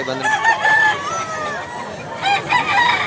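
A year-old gamefowl rooster from a Cebu fighting-cock bloodline crows loudly twice, a long wavering call near the start and another toward the end, with faint background noise between.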